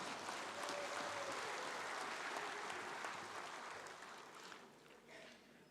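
Applause from the audience fills the hall at a UMNO party president's policy speech: dense, sustained clapping that fades gradually over the last couple of seconds.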